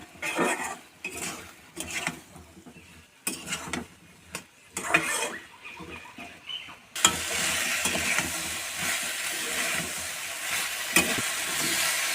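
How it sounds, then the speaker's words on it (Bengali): Ingredients for Bengali-style sajna chorchori (drumstick curry) fry in a pan. Intermittent clatter and stirring come first, then a loud, sustained sizzle takes over for the rest. "ওটা একটু ভেজে নিচ্ছি।"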